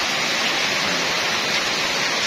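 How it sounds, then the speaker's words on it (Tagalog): Heavy rain pours down in Davao City, a dense, steady roar of broadband noise that holds evenly and loudly throughout, with no voices. "Ang lakas talaga ng ulan."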